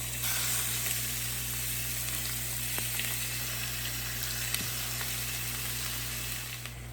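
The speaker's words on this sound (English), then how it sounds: "I'm gonna add the chicken and start browning it up" Two chicken breasts browning in a hot pan, giving a steady, close frying sizzle with a soft constant hiss and a few faint clinks of utensils, no voices.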